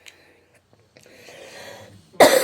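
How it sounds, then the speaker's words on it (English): A quiet, raspy throat sound builds, then a single sharp, loud cough bursts out at the end. "I haven't even got a cough, so I don't know why I'm coughing"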